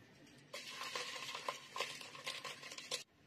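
A spoon scrapes and stirs tomato paste frying in a pan over toasted soup noodles, with a faint sizzle under quiet, irregular scraping strokes for a few seconds.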